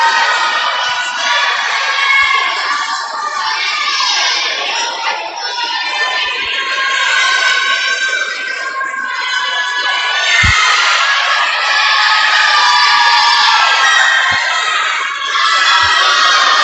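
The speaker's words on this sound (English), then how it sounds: "Crowd's getting loud, and so are the kids." Crowd and children cheering and shouting at a youth swim meet, a loud, continuous wash of voices and whoops filling the pool deck with no pauses.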